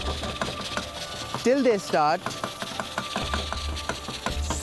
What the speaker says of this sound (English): So basically I am kind of chopping the tomatoes in the pan slowly and gradually